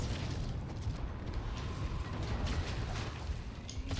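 A grenade explosion in Halo 2 Anniversary, a heavy booming blast that blends into constant dense battle noise with low rumble throughout.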